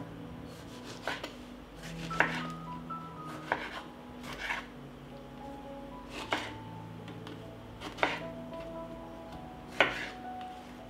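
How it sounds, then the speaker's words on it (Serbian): Knife chopping tomatoes on a board, a series of distinct, evenly spaced cuts heard close up over a steady background hum. "Tako ću iseći i 4 paradajza."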